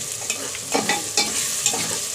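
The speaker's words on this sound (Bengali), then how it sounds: "মশলা কষিয়ে নিচ্ছি" Spices are stir-fried for a goat meat curry in a pan over a gas flame, giving a steady sizzle broken by a few quick stirring scrapes.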